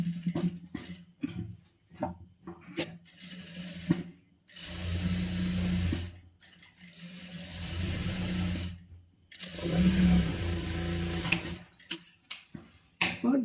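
A sewing machine stitches a design on a churidar top in several bursts of whirring needle action separated by pauses with small clicks and handling noises, close and moderately loud.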